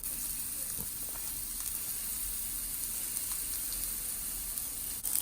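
Continuous hiss of a little oil sizzling on a hot griddle or dosa pan, ahead of an egg omelette with drumstick flowers and capsicum, steady and fairly close throughout.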